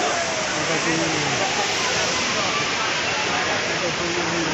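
Waterfall at Srambang Park in Jogorogo roars as a dense, constant broadband rush, loud and close, with a voice talking over it.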